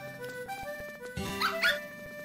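A puppy in the Nintendogs game on the way to the park gives a couple of short yips and barks over a steady musical backdrop, with a brief burst of livelier sound in the middle.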